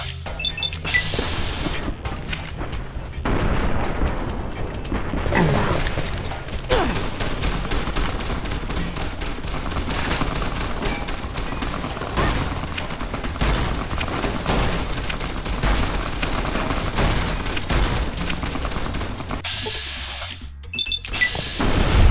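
Gunfire in Fallout: New Vegas during a fight with Great Khans, a long stretch of dense, loud shots and impacts with clattering crashes, near and continuous, then briefly thinning before picking up again.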